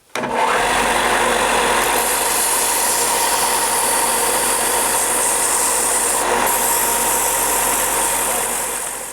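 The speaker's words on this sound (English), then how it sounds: "I need to narrow this tip down. And I'll do that on the belt sander." A belt sander runs steadily on a wooden fishing lure, shaping and narrowing its tip, with a loud continuous whirring and grinding drone that holds from start to finish and tapers slightly at the end.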